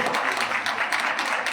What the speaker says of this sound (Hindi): तो अपने लिए तालियां बजाइए कि और अवार्ड आपका निकले।